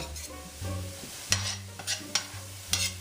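Onions sautéing in a pan for a homemade tuna noodle casserole, with scraping stirs at regular intervals over a steady low sizzle, close and fairly quiet with no talking.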